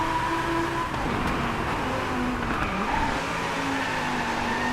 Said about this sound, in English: that was a sexy drift